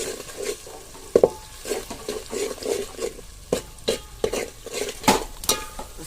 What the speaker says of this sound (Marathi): त्यानंतर यामध्ये सर्व मिक्स केलेले मसाले टाकलेत आणि ते एकदम परतून घेतले